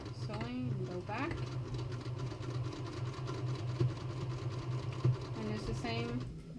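A sewing machine stitches fabric for a bunny ear teether, a steady close mechanical whir running throughout, with brief higher whines as it starts and reverses and a couple of soft clunks.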